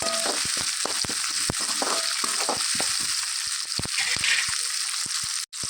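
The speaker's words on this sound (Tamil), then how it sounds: "நல்லா வதக்கி எடுத்துக்கணும் சின்ன வெங்காயத்தை" Small shallots sautéing in hot oil in a pan for a coconut mutton curry, a steady close sizzle with frequent sharp clicks and scrapes of stirring throughout.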